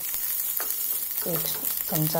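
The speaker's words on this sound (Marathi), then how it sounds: "त्याच्यामध्ये भेंडी चिरलेली घातलेली आहे आणि हे आपण 2-3 मिनटं परतून घेणार आहोत" Chopped okra fries in a spoonful of hot oil in a wok, producing a loud, steady sizzle with stirring noises and a few brief tonal sweeps near the end.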